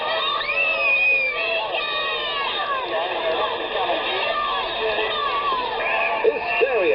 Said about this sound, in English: And the screams break out long before the fourth Beatles plane gets in.